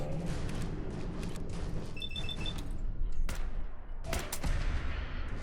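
Gunshots in Fallout 4: Nuka-World, several sharp bangs and bursts of fire over a busy game mix, with a couple of loud cracks late on, no talk.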